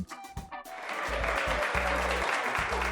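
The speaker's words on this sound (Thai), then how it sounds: "ปรบมือต้อนรับเธอกันด้วยครับ" Applause from an audience greeting a contestant builds after a brief musical intro and swells into a steady wash of clapping, with low thumping music beats running underneath.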